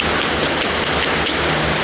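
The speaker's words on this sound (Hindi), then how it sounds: "बहुत तेज बारिश है" Heavy rain pours steadily, a dense, loud hiss with close drops pattering on a surface throughout.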